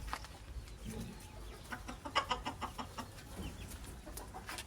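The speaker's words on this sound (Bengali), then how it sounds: "এই যে এখানে তিনটা তিনটা মুরগি কুচে পড়ছে" Broody hens on a rooftop cluck in soft, repeated low calls, with a quicker burst of clucking near the middle, heard close but quietly with no talk.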